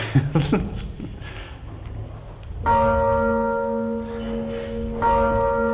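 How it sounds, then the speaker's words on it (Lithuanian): A Belgian-made church bell, rung without electric power at a Lithuanian church in Canada, strikes twice after brief noises, each stroke loud and close with a long ringing hum that lingers. "Bet čia yra grynas belgo varpai."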